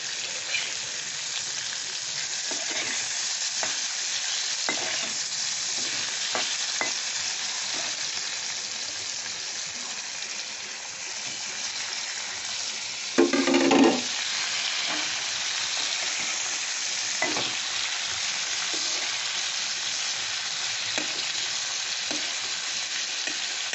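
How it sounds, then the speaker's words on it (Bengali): Prawns coated in pepper sauté in a hot pan for butter garlic prawns, giving a steady, fairly loud sizzle and frying hiss throughout, with occasional stirring knocks and a brief louder clatter partway through, no talking. "মাছগুলো দিয়ে দিচ্ছি, খুব অল্প আছে, একটু সাঁতলে নেব।"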